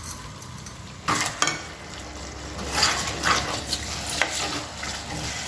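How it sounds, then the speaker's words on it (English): Washed rice frying with masala in a pot as khichdi is started, a steady sizzle with repeated scraping and clattering stir strokes close by, alone. "I'm going to just fry it for some time before you leave it for boil."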